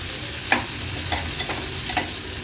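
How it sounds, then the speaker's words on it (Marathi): Finely chopped onion fries in oil over a low flame, giving a constant bright sizzle with a few light stirring clicks, near and steady, with no voices. "लो फ्लेमवर कांदा आपल्याला तेलावर परतून घ्यायचा आहे।"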